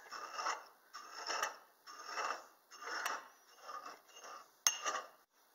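A wood ash solution being stirred in a glass beaker, with a rasping scrape that swirls round in regular strokes about once a second, close and fairly quiet, with one sharp clink near the end.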